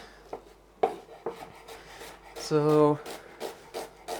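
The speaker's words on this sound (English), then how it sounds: "I'm just cutting these onions" Onions being chopped on a board during home meal prep, a scattering of soft knife taps and scrapes with one brief louder rasp, a spoken word heard faintly near the start.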